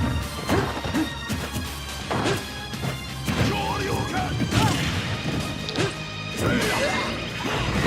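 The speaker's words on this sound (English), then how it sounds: "predicts the shield and gets the shield break" A shield shatters in a Super Smash Bros. 4 tournament match, with sharp crashing hits and whacks ringing out over game music and crowd noise, repeated impacts spread across the stretch.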